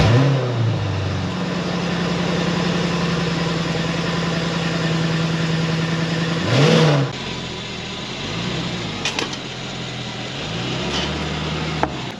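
A Mercedes AMG car engine, a rare garage find, turns over, settles into a steady close idle and then revs up sharply several times, with the rises and falls of the engine note standing out clearly.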